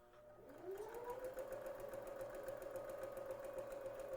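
A sewing machine starts up and runs at a steady, fast hum on its own, close and fairly quiet, with its motor whine holding an even pitch after a brief rise at the start.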